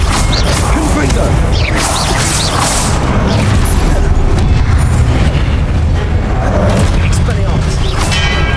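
A Confringo fire-blast spell from the Hogwarts Legacy video game erupts in dense, loud booming blasts over continuous mechanical clatter and rumble that fills the whole stretch.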